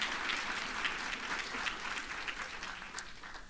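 A standing audience at a Hampton University retirement gathering applauds a husband and father, producing steady, dense clapping that holds at an even level throughout without voices.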